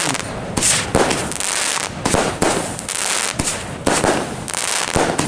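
A powerful 36-shot fireworks battery fires a rapid, steady series of loud, close booming bursts with crackling tails, about two per second, with no talk over them.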